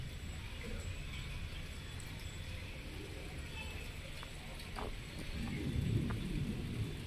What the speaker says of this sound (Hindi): बादल की आवाज सुन सकते हो आप।